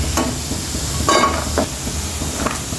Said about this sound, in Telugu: ఈ మాత్రం ఫ్రై అయితే చాలండి ఎక్కువ ఫ్రై చేసుకోవద్దు